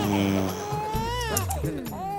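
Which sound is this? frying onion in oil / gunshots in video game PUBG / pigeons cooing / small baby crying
small baby crying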